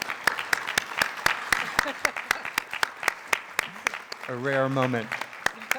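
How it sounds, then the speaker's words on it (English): Audience clapping at a Festival of Faiths panel: distinct, fairly evenly spaced individual claps ring out clearly over a few seconds, while a voice speaks briefly alongside them. "So if you'll join me in applauding Sarah,"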